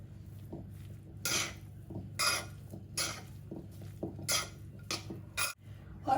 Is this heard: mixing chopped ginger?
yes